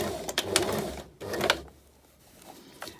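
A domestic sewing machine stitching fabric under the presser foot to back tack at the start of a seam, short whirring runs separated by brief pauses, close and fairly quiet.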